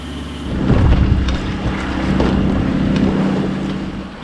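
Strong wind buffets a sailboat under cloudy skies on the way to Baie de Prony, a steady rushing roar with low rumbling gusts that swell and ease throughout, loud and close with no talking.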